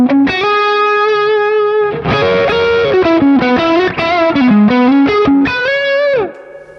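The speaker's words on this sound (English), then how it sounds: "that's the reverb all the way up" An overdriven electric guitar through a Mesa Boogie Nomad 45 amp with reverb turned all the way up plays a sustained note and then a melodic run, each note trailing into a heavy, spacious reverb wash.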